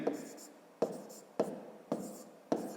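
A pen or pencil writes by hand during long division, with five sharp strokes tapping down at a steady pace, each followed by soft scratching, close and quiet.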